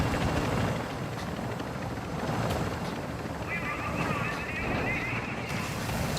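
Helicopter in Call of Duty DMZ coming in to land, a steady loud rotor and wind rush filling the whole stretch, with a brief higher whine joining near the end and no talk over it.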